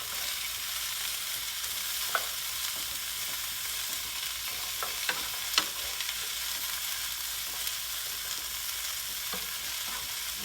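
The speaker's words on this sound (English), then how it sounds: "we're going to saute this for another 2 or 3 minutes" Ginger, garlic and vegetables sauté in hot oil with a steady, close sizzle, broken by a few soft clicks and scrapes of stirring over about ten seconds, no voices.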